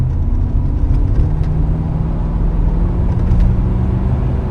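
A 1987 Chevrolet El Camino SS engine roars under hard acceleration, a dense, steady low rumble that holds on its own without any talking.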